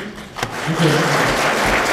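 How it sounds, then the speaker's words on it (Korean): Audience applause at a hospitality training lecture for local merchants, rising quickly after a brief thump into a continuous dense wash of clapping. "큰 박수로"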